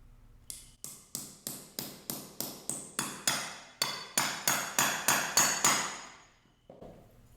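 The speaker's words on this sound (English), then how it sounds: "take one of these caps, put it on the axle, and hammer it on tight" A metal cap is hammered onto the axle of a XERO Pure water system: about thirteen sharp, close blows in a steady, even rhythm, each ringing briefly before the next strike, with no talking.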